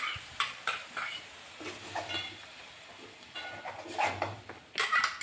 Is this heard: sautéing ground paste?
yes